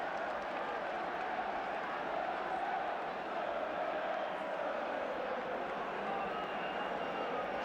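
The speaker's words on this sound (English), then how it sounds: "Arsenal supporters applaud." Arsenal supporters applaud in a packed football stadium during the Arsenal v Spurs match, a steady, distant wash of crowd clapping and murmur that holds evenly throughout without standing out sharply.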